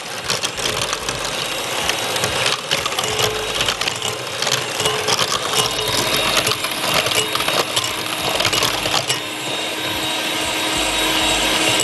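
Electric mixer beating cupcake batter with butter for Christmas tree cupcakes, a steady close motor whir with rattling of beaters against the bowl throughout, no talk.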